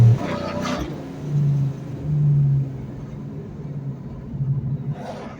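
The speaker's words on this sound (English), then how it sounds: "I'll give her a little like half throttle blip here, just so you can hear what she sounds like here." Supercharged 2004 Ford Mustang Mach 1 V8 with a Procharger, revved in a half-throttle blip: a deep, loud, close rumbling rise that swells twice and settles back to a lumpy idle, with no voices.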